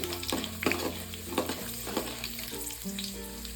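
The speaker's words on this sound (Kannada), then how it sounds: "ಕಡಲೆಬೇಳೆ, ಉದ್ದಿನಬೇಳೆ ಹಾಕ್ಕೊಳ್ತಾ ಇದ್ದೀನಿ, ಒಂದು ಅರ್ಧ ಸ್ಪೂನ್ ಅಷ್ಟು" Mustard seeds, chana dal and urad dal crackle and sizzle in hot oil for shavige bath, with sharp pops and the scrape of stirring over a steady frying hiss.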